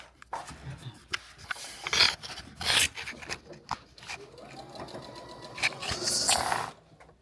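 A sewing machine stitches quilt block pieces together in short, uneven bursts of whirring needle chatter, with fabric rustling and handling noises between runs, fairly close and moderately quiet.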